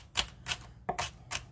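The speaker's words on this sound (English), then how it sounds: "I do want to cut these up pretty well." A knife chops hot peppers on a cutting board for pepper jam, giving four distinct sharp taps at an irregular, roughly steady pace, close and clear, with no talk.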